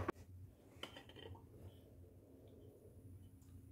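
A lid is set on a pot of hot water in a kitchen: a sharp metallic clink at the start, a second lighter clatter, then a low, steady background hum with faint small rattles, close and quiet.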